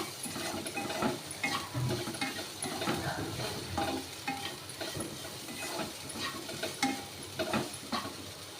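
Egg fried rice with curry leaves is stirred in a hot pan, producing continuous scraping and tossing strokes over a soft, steady sizzle, close and even throughout.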